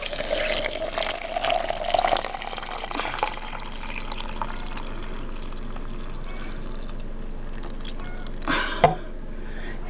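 Boiling water poured into a tea infuser for rose hip tea, a close, steady trickling stream that runs strongly for the first few seconds, then thins to a quiet flow with a brief splash near the end.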